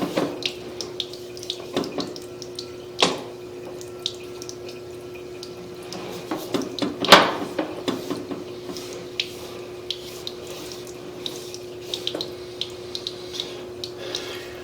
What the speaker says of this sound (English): the water is still traveling on through